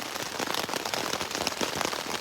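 Heavy rain during a thunderstorm at Cliff Lake in Temagami pours steadily onto a shelter or tent surface nearby, a dense, continuous patter with no voices.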